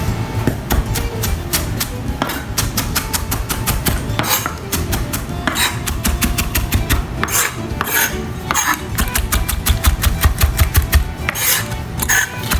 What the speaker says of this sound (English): we'll go ahead and chop it up nicely